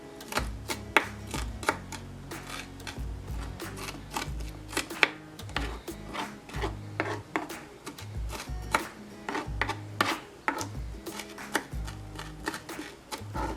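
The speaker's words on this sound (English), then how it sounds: "So I'm just going to slice up a nice little small piece of onions." A knife slices onion on a cutting board for an avocado tuna salad, producing a steady run of crisp, close chopping taps, some louder than others, with no talk.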